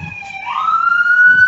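A loud emergency siren wails close by in a brief burst, its tone sweeping upward and then holding a high pitch.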